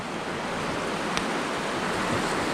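Montana Creek near Talkeetna, Alaska, rushes steadily in a broad, even wash of flowing water, close and continuous with no voices.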